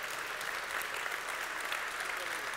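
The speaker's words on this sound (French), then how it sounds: "qu'on les applaudisse avant d'entamer ensemble cette soirée" An audience in a hall breaks into dense, continuous applause, a wash of many hands clapping at once, steady and fairly loud throughout, with faint voices mixed underneath.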